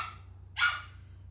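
A single short, sharp dog bark from a female dog cuts through steady low electrical hum; it is moderately close and alone, with no speech.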